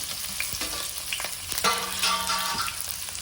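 Garlic, green chillies and onions fry in a pan over a fairly high gas flame for a coastal-style okra palya, a close crackling sizzle broken by sharp spoon scrapes and clinks against the pan.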